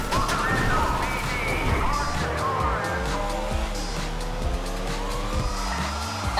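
Police sirens wail during a car chase in GTA V Online, continuous and loud over roaring engines and occasional crashes, with several siren tones overlapping and sweeping up and down.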